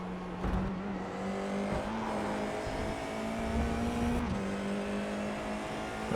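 A Formula iR-04 race car engine pulls hard through the gears at Monza in iRacing, a steady buzzing drone that climbs in pitch, with a brief shift break near four seconds before it rises again.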